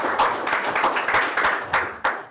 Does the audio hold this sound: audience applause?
yes